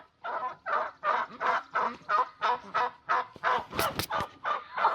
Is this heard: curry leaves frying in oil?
no